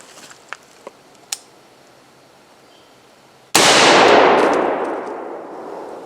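A 7.5-inch AR-15 pistol fires a single loud, sharp shot close by after several faint ticks, and the blast rings out and slowly decays.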